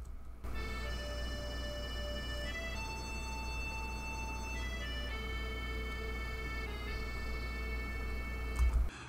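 Accordion recorded with a touch of Soundtoys Decapitator saturation, steady sustained chords and reedy tones shifting between held notes over a constant low drone, loud and continuous with no talk.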